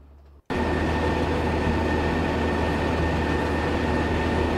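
A Shatabdi Express train roars at full speed in a train simulator game, with a dense, steady rail rumble that cuts in abruptly after a brief quiet start and holds loud and constant.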